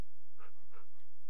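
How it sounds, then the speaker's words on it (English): A Minecraft dog gives a few short breathy panting or whimpering sounds, quick and close, with no one talking. "here's a dog over here. Is that yours? That's my dog."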